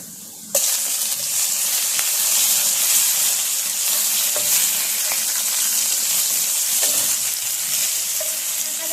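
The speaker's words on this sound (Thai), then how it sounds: "ขั้นตอนต่อไปแป้งก็จะใส่กุ้งลงไปผัดเลยค่ะ" Shrimp stir-fried in a pan with garlic that has started to turn golden, with a loud continuous sizzle that starts abruptly and carries on steadily, broken by occasional scrapes and clinks of a spatula.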